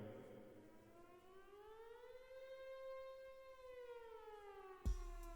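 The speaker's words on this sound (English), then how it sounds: "That's the siren, folks" A wailing siren rising and slowly falling in pitch, fairly faint and distant, ending with a sudden thump.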